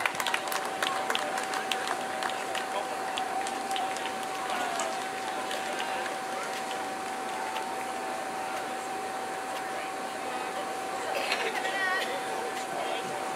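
Spectators clap for runners crossing the finish line of the Bideford 10k road race, a scattered, fairly faint applause mixed with crowd chatter and a steady tone, with a voice speaking over it.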